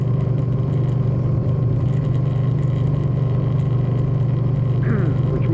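A 2013 Suzuki Boulevard M50 cruiser rumbles steadily while being ridden on the road, a constant close engine drone with wind noise and no marked revving.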